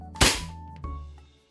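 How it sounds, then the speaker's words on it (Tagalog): An E&C Combat Master 2011 airsoft pistol fires three sharp, cracking shots about two-thirds of a second apart. The first is the loudest, and each snap rings out briefly before fading. "Merong kalutungan tong tunog ng ENC Combat Master na to."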